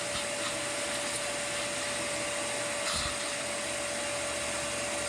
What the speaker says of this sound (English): You can hear the oil going.